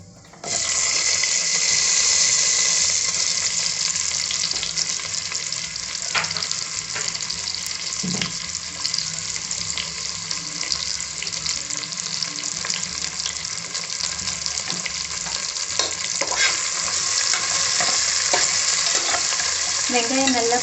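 Chopped onions fry in a pan for egg biryani, a loud, continuous close sizzle with stirring and scraping throughout and no talking.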